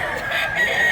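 Rooster crowing briefly and close by, a single short call under a second long with a bright, strained tone, heard alone without talk.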